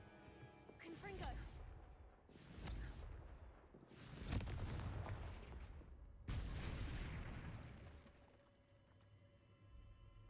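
Confringo blasting spell cast repeatedly in Hogwarts Legacy, four booming explosive bursts, each with a fading crackling tail, spaced a couple of seconds apart.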